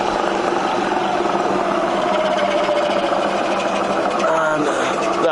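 A Lion milling machine runs in low range with a steady, even mechanical hum and whir at constant loudness, no pauses, close by.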